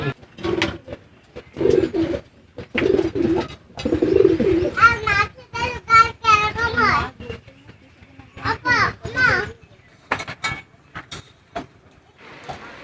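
Pigeons coo in bursts close by, low throaty warbles repeating between stretches of people talking at a showing of native and foreign pigeon breeds, with children's voices in the background.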